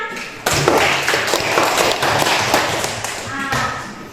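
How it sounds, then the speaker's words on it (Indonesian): Classroom applause for a student: a sudden start of many hands clapping at once, dense and steady for several seconds, then thinning toward the end. "Tepuk tangan dulu buat Hilman."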